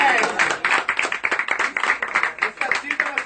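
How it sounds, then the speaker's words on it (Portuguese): Audience applause for a guest on a Brazilian live variety show, a lively burst of rhythmic, close clapping that runs through the whole moment with voices mixed in. "Uma salva de palmas pra ela,"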